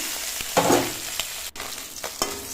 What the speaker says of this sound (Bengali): প্রথমে এই মাছগুলোকে ভেজে নেব।